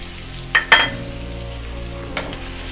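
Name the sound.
chicken being roasted in a karahi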